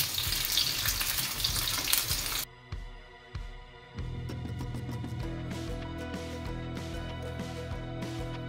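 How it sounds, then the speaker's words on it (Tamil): Fish frying on a tawa after being flipped: a loud, dense hiss and crackle of hot oil at first, then it drops away briefly before a steady, bright sizzle with sharp crackles resumes and continues. "மீனை ஃப்ளிப் பண்ணிடுவோம். நல்லா ஃப்ரை ஆயிடுச்சு."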